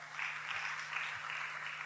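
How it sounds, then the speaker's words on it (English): Brief, soft applause from a small crowd, faint and somewhat distant, with a low steady hum beneath it. "a round of applause for her."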